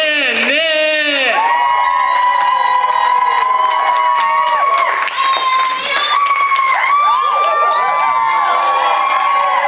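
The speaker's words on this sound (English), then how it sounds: "Start clapping right now." A talent show crowd at a brewery cheers, whoops and claps loudly and continuously, with shouting voices and a dense, energetic roar throughout.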